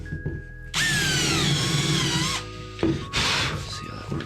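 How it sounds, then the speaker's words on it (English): A power drill driving screws into a wooden epoxy worktable, two loud whining bursts, the first long and steady, the second shorter after a brief pause, close by. "So now what I want to do is just put a few of these screws in."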